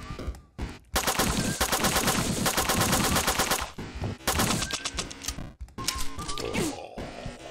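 SMG submachine gun firing in the video game Revenance: loud, long rapid-fire bursts of clattering shots, separated by brief pauses.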